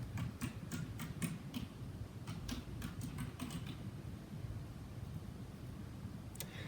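Keys click on a computer keyboard as a library catalog search is typed, a quick, quiet run of taps followed by a pause and a final faint tap over low background hiss.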